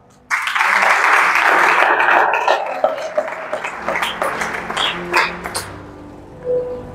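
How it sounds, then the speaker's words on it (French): A church congregation breaks into loud applause and cheering, close and dense for a few seconds, then thins into scattered claps and voices before fading out. "Et ça s'acclame."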